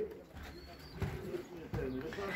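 Racing pigeons coo softly and repeatedly in a close, enclosed loft, their low throaty calls overlapping steady background noise.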